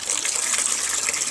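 Water gushes steadily out of the valve of an inflatable pontoon bladder, a brief loud continuous splashing rush with no voices.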